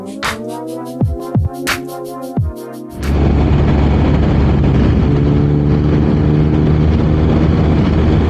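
A BMW R 1250 RS motorcycle cruising on a highway: after a few seconds of harmonic tones, a loud, steady engine drone and broadband wind rush take over and hold constant to the end, close and continuous with no talking.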